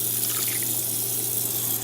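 Water pours steadily from a tap or jug into a crockpot of chicken stew, a continuous close, loud rushing splash with no talking.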